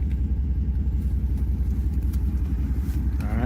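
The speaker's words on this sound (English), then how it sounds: "All right, we got the truck back here." Pickup truck rolling along a dirt driveway on freshly bush-hogged raw land, a steady low engine rumble close by, continuous and unbroken with no talk.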